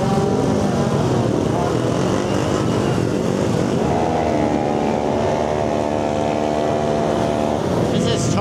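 At a Bangkok drag racing event, many motorbikes make a loud, continuous roar close by. Engines rev and whine in overlapping layers, with one rising pitch standing out midway.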